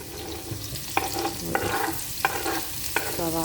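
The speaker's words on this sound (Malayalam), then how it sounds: "ഓയിൽ ചൂടാകുമ്പോൾ നമുക്ക് സവാള ഇടാം" Sliced onions frying in hot oil for turkey biryani, a steady close sizzle broken by a few sharp stirring scrapes, with no talk.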